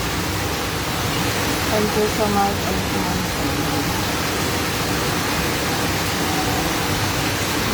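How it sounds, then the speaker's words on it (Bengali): Steady hiss of a heavy midday downpour fills the background throughout, while someone speaks briefly over it. "বৃষ্টি হচ্ছে"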